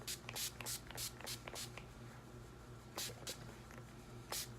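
A few quick hissing bursts of makeup setting spray, close and short, separated by soft handling noises in an otherwise quiet room.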